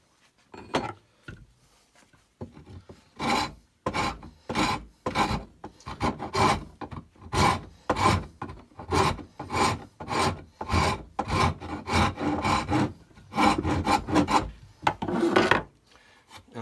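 Steady back-and-forth rasping of a fine file on the wooden stock of a CVA Frontier muzzleloading rifle, about twenty even strokes close to the mic, pausing briefly near the start and again near the end.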